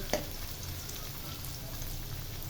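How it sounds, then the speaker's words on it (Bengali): Chopped onions frying in a pan toward brown, a dense continuous sizzle with a brief clink at the start, steady and close. "পেঁয়াজটা সুন্দর করে ভাজি করে নিতে হবে"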